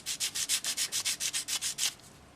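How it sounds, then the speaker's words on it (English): Sandpaper smoothing the stamped top edge of a silver ornament bezel, about twelve quick, even back-and-forth rasping strokes, close and fairly quiet, then stopping, with no voices. "just smooth off the top edge of the bezel, because when they stamped it"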